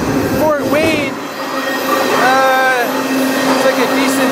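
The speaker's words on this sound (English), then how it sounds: "This train is really moving through here." A freight train moving fast through a decent-sized town around Fort Wayne, with steady loud rumble and repeated high wheel squeals rising and falling, heard up close from aboard.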